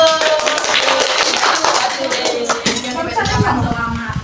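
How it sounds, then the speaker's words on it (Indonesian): Sixth-grade pupils in an elementary school classroom clap for the winning group, a loose, uneven patter of hands mixed with children's voices and chatter. "Tepuk tangan untuk kelompok 1."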